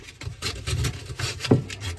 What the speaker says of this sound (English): we're going to clean this up with a little bit of sandpaper